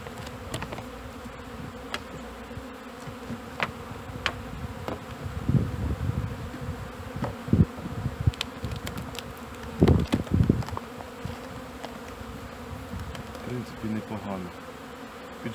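Honey bees streaming out of a hive during a spring cleansing flight, a continuous dense buzzing swarm with louder passes of individual bees close by, under faint background noise.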